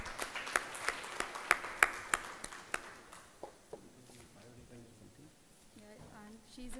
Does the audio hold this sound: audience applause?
yes